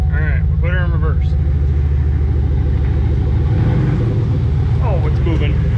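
Low engine rumble from a Chevrolet Impala SS idling as it is put in reverse, a steady near drone throughout with someone talking over it.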